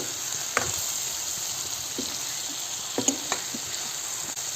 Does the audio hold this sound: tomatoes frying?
yes